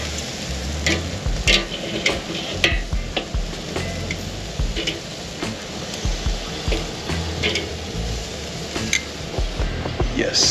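Food sizzles steadily on an outdoor grill, a dense continuous frying hiss with scattered crackles and pops, close and fairly loud throughout.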